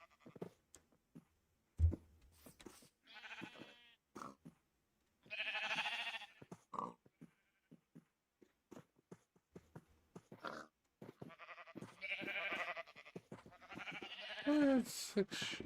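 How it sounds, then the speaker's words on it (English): Sheep bleating in the Minecraft video game, several separate bleats scattered across the stretch between short gaps, with a person talking over parts of it. "That's 6 sheep."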